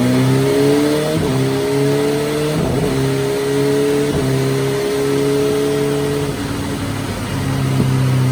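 A BMW S1000RR 999 cc sport bike engine revs hard on a dyno, loud and close, climbing and dropping through several sharp rev sweeps with steady harmonic engine tones throughout.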